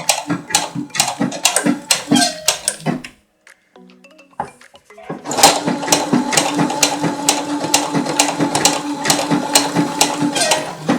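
A sewing machine stitching an overlock seam on fabric with a special presser foot, giving loud, fast rhythmic mechanical clatter that pauses for about two seconds in the middle and then resumes steadily.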